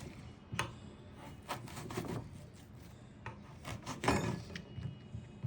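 A knife cuts an apple into thin slices for a decorative swan wing, making close, dry scraping and rasping strokes in uneven bursts with no talking.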